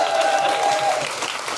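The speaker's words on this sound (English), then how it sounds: "a big round of applause for Tom Salinsky" Brief burst of audience applause for producer Tom Salinsky, a dense wash of clapping from a crowd with a short tonal sound over it, loud and sustained for a moment.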